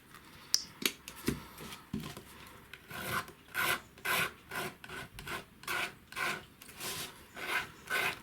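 A palette knife scrapes paint across a painting surface in a string of rhythmic rasping strokes, close and fairly quiet, with a few sharper taps at the start and no voices.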